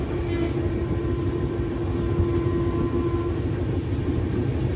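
Passenger train out of Visakhapatnam rolling along, a constant loud rumble of wheels and carriage noise with a steady hum, unbroken for the whole stretch.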